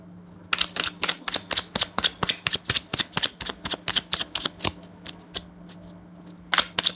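Tarot cards for a pick-a-card reading shuffled close by in a rapid run of crisp riffling snaps that fades briefly before a final flurry, with a steady low hum underneath.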